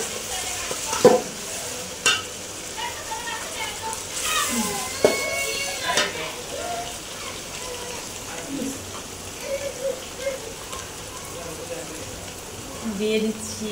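Ginger paste and spices such as cardamom, bay leaf and garam masala fry in a pan of oil, a soft continuous sizzle with occasional sharper clinks and stirring scrapes, mostly faint and close, with a voice speaking over parts of it.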